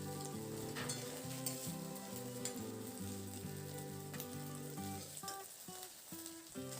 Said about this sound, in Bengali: এরপর আমি এটাকে নাড়াচাড়া করে একটু হালকা লাল লাল করে ভেজে নেব